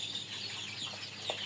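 Sixteen-day-old chickens on a small poultry farm, huddled in the cold under heat lamps, give faint, continuous high peeping, with a couple of slightly louder chirps over a low steady background hum.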